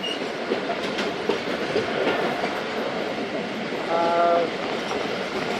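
The Thal Express rumbles steadily along the track with a continuous, loud roar of wheels and carriages, plus a brief tonal horn or whistle near the end, heard from on board.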